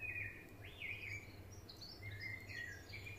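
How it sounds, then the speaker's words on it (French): Birds sing in a meadow setting, a few clear whistled chirps and short rising notes in quick succession over a low steady hum, moderately faint, with no talking. "Entendez la mélodie des oiseaux."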